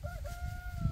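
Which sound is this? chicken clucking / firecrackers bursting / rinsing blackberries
chicken clucking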